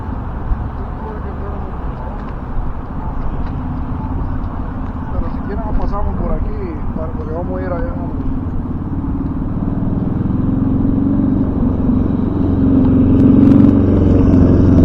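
Street traffic rolls past at a crosswalk in Washington DC, a steady nearby rumble of cars and engines that swells louder toward the end, with a voice talking briefly over it.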